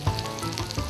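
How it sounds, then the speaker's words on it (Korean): Garlic beef intestines (gopchang) sizzle on a grill, a steady close crackling fry that holds for about a second with a few louder pops. "지글지글 소리까지 마시는 곱창구이"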